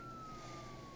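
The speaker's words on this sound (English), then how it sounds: "sirens coming your direction quickly." Sirens sound far off, one steady rising wail audible throughout a single second of faint, distant street noise with no talking.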